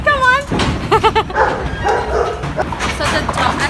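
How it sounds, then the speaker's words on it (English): A farm dog in a sheep yard in Gnowangerup, Western Australia, gives a quick run of close, loud barks and yips while working sheep, with people talking around it and whining in between. "The dog is just barking just so that the sheep will move"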